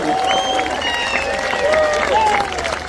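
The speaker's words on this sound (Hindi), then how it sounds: "अगर आप मानते हो, दिल से मानते हो, तो एक बार दिखाओ जोरदार तालियों के साथ।" Loud, dense crowd applause and cheering fill a business seminar hall at an MI Lifestyle Global event, continuous throughout with whistles and shouts mixed into the roar.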